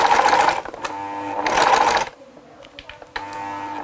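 Sewing machine stitching a new seam over the old one along the piping of a handmade men's hat, running in two close steady bursts separated by a pause, then starting up again.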